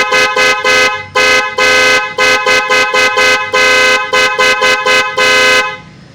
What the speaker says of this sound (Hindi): ये हारन आ रहे हैं।